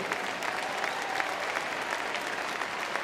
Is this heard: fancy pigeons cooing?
no